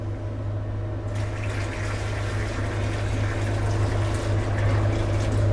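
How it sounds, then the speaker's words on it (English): A gallon of water is poured steadily into a commercial dishwasher, a continuous loud rushing and splashing of liquid with a low machine hum beneath. "I just pour this water in 1 gallon at a time, slowly so that I don't slop up and move my indicator."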